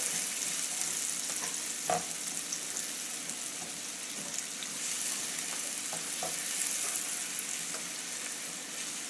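Onion and garlic sizzle and crackle steadily in butter in a hot copper pan, a soft continuous frying hiss with occasional small pops and stirring clicks.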